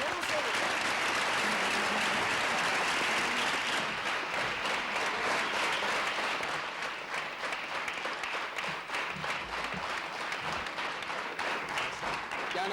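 Steady, dense applause from a school quiz audience for a young girl contestant, continuous and fairly loud for the whole stretch with no talking over it.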